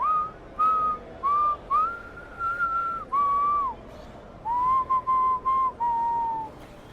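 A person whistles a tune alone, clear and close, in short phrases with brief pauses between notes.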